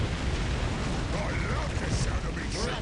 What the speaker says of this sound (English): there's so many explosions.